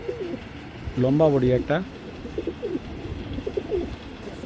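Pigeons coo at a pigeon sale, a loud rolling coo in the middle and softer gurgling calls after it, heard close while someone talks over the birds.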